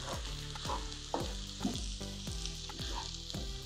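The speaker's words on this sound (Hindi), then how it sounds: "ये मेथी हमारी भुन चुकी है, और ये देखिए, इसने घी भी रिलीज़ कर दिया है।" Fenugreek seeds roasting in ghee for fenugreek and edible gum laddoos, stirred with a spoon in rhythmic scraping strokes roughly every half second over a quiet, continuous sizzle, close up and without speech.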